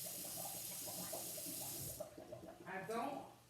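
Hot water is poured from a pot into a strainer in a home kitchen, a rushing splashing gush for about two seconds that breaks into gurgles and trickles, with a faint voice in the background.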